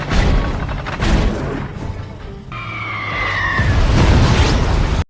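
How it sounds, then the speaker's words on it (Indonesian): Cannon fire striking a ship in a film scene, a loud blast and rumbling explosion as the vessel is destroyed, with heavy booming bursts and debris noise filling the space. "Turnbull malah menembakkan meriam ke arah kapal itu sebagai pemanasan"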